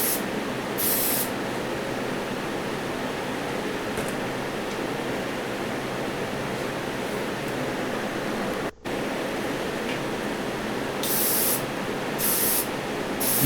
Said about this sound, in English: I clear coated them with the automotive clear coat